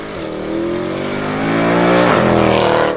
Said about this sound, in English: Awesome car with a naturally aspirated V8 that sounds amazing